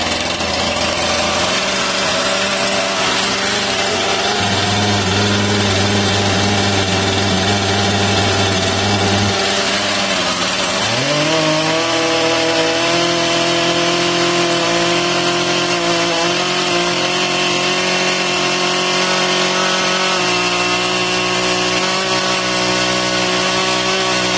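A chainsaw engine runs steadily and loud after being pull-started, its tone shifting partway through as the revs settle into a lower idle, with no talking over it.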